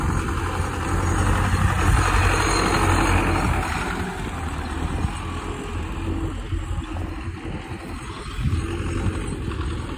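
A farm tractor that clears manure and spreads bales and straw into cow stalls runs steadily close by, a continuous low engine rumble that swells and eases slightly over ten seconds, with no talking.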